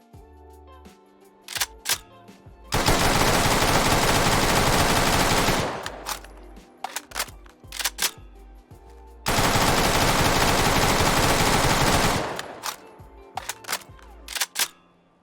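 Automatic bursts from a Handmade SMG in Fallout 4 with custom sounds, two long sustained volleys of rapid fire, loud and close, separated by scattered mechanical clicks and handling noises, with no talk.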